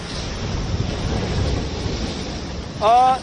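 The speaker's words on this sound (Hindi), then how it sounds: "लगातार ये बरसात और ये जो हवा चल रही है जिसकी वजह से मैं अपना अम्ब्रेला, अपनी छतरी जो है वो पकड़ नहीं पा रहा हूं" Strong wind buffets the microphone and rain pours down on the Mumbai coast as Cyclone Nisarga approaches, a loud continuous roar close by, with a brief voice near the end.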